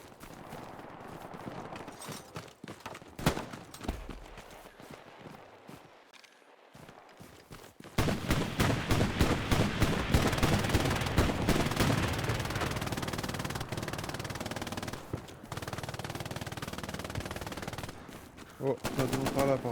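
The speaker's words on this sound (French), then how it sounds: "ça tire là-bas, ça tire là-bas." Gunfire in a video game, with scattered sharp shots early on, then dense, sustained bursts of rapid automatic fire that stay loud and close through most of the second half.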